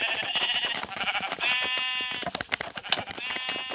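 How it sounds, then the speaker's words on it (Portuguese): Sheep in the video game ARK bleat repeatedly and loudly, with wavering cries that overlap in quick succession over a busy game soundscape. "Ovelha maldita, cara, o que é isso?"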